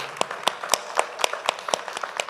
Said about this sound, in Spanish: Aplauso a Claudio Valle.